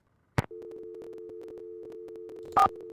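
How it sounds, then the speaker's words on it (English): A steady phone busy tone sounds in the Nancy Drew game The White Wolf of Icicle Creek, starting after a click and running unbroken, with a brief beep near the end. "Sounds like she has her phone off the hook."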